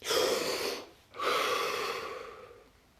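Two slow, close breaths during a guided breathing exercise: a long airy inhale, a short pause, then a longer exhale that fades out gradually, with no speech.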